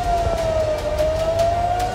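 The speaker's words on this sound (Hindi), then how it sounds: "पहले खतरे का सायरन गूंजा" A loud, steady wailing air raid warning siren holds a sustained tone throughout, with faint background noise beneath it.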